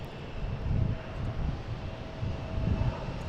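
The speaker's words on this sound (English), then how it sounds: "Got a Cape Air coming out of here." A Cape Air plane departing Boston Logan, its engine drone swelling and easing in gentle pulses, moderately loud, with some wind buffeting the microphone and no talking.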